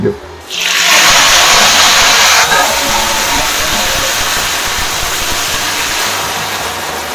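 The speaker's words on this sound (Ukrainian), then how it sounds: "Тепер заливаємо все це окропом приблизно 300-350 мл" Boiling water poured into a hot frying pan of browned varenyky, giving a loud sudden burst of hissing sizzle that settles into steady crackling frying.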